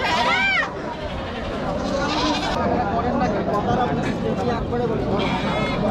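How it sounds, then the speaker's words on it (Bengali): Lambs at a livestock market bleat loudly several times nearby, their high wavering cries breaking through a busy crowd of people talking. "সুন্দর সুন্দর ভেড়ার বাচ্চা"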